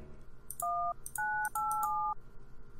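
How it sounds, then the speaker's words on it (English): A security keypad in the Thimbleweed Park video game is tapped four times, each press giving a clear two-tone phone-style beep close up, with short gaps between them over a faint background hiss. "It's a security keypad."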